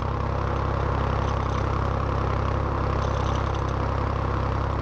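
IMT 533 tractor engine idling in the Farming Simulator 19 game, a steady, dense low rumble with a faint mechanical clatter, continuous and unchanging, with no talk.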